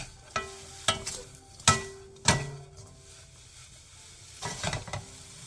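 Seasoned dried filefish strips being stir-fried in a pan with a sprinkle of sugar for a holiday side dish: several separate scraping, tossing strokes of a spatula at an uneven pace, with a soft sizzle between them and no voices.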